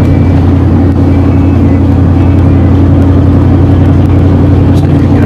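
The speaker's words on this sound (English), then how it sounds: "Doing about 38 miles an hour, about 1600 RPMs." A vehicle cruising at about 38 mph and 1600 RPM during a gearbox test gives a loud, steady low engine drone with a constant hum and road rumble throughout.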